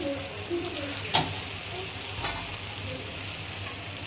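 Spice paste for a beef and potato curry sautés in a pan, a soft continuous sizzle with a couple of light spoon clinks, close and fairly quiet.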